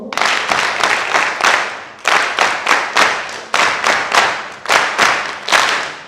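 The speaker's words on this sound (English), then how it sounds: "Clapping factorial way. 5, meaning we start from 5 going down." A graduation-ceremony audience in Kenya claps in a factorial pattern counting down from five: loud bursts of many hands in shrinking groups with brief pauses between them, close and clear with no talk.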